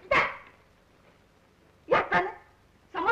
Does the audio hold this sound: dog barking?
yes